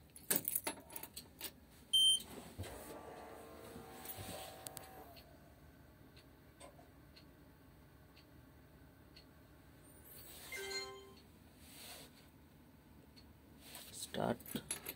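Keys jangle in the ignition of a 160-tonne Liebherr mobile crane, a loud metallic rattle near the start. Softer clinks and vehicle noise come and go over a low steady rumble, with another rattle near the end.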